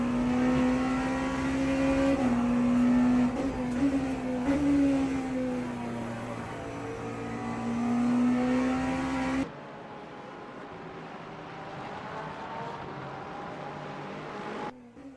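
A racing video game with cars running close together as one driver makes a clean pass on a damaged Ferrari, the engine tone steady and loud. It sweeps slightly up and down, then cuts abruptly to a quieter, lower drone.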